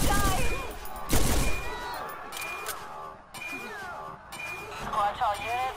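Gunfire rings out in the video game Watch Dogs, with bursts of shots and clinks mixed with game voices and chaotic city sounds, loud and close at the start and then trailing off under continued talk.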